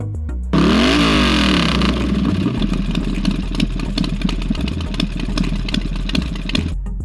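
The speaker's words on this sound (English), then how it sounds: "Play sound engine." A loud video game car engine sound effect revs up sharply, then keeps running with a steady, rattling drone for several seconds, with no voices.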